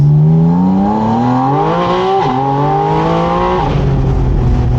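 A Spyder RS sports car engine, unlocked to 9,000 rpm, revs hard, pitch climbing then dropping sharply with quick throttle blips on downshifts, loud and continuous up close.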